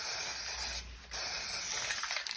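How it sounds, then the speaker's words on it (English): Steady hissing spray from a spray bottle misting acrylic paint, cut by a brief pause just under a second in, then a second long burst that ends with a few short spritzes. "I just gave it a lighter spray that time"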